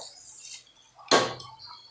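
Rice is sautéed in a pot with egg for egg biryani, giving one short, sharp scrape and clatter of a utensil against the pot amid an otherwise quiet kitchen.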